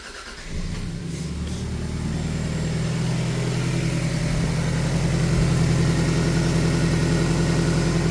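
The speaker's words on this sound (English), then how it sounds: "So I'm going to start the car up in park and pump some out." A Toyota car engine in park cranks briefly, catches and settles into a steady, loud idle that continues alone for several seconds.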